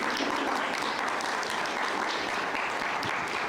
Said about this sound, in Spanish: démosle la bienvenida a Enrique Vaz con un gran aplauso